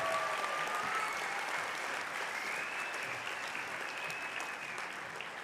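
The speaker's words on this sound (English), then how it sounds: "please give a round of applause for the graduates from the Business Administration program" Steady applause from a convocation audience for Business Administration graduates at a business school ceremony, a continuous wash of many hands clapping from a distance at moderate loudness throughout.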